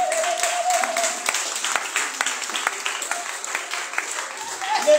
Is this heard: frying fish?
no